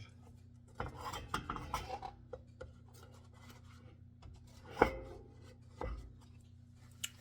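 A small plastic knife scraping and prying buttery buttermilk cornbread muffins loose from a muffin pan, heard as a few close, sparse scrapes and light knocks over a quiet background hum.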